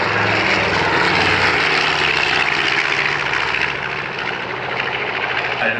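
B-25 Mitchell bomber Panchito flying at an air show, its radial piston engines and propellers a loud, steady roar close by, filling the whole stretch without pause.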